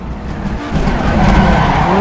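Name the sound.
video game rally car tires locking up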